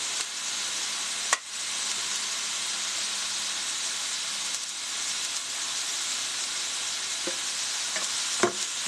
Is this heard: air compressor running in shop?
no